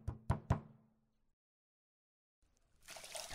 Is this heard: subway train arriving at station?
no